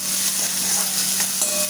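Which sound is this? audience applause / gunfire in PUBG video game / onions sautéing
onions sautéing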